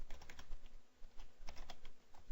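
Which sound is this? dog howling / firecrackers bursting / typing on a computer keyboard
typing on a computer keyboard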